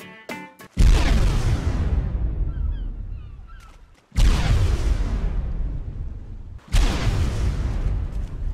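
Three heavy, booming sea-mine blasts in the survival game ARK: Survival Evolved, each one a loud, close roar that decays slowly over several seconds before the next detonation.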